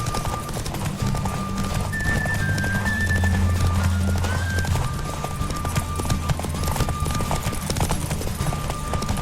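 Driving hoofbeats of a horse racing at full gallop in The Witcher 3 pound on without pause, near and loud, under a few held musical notes.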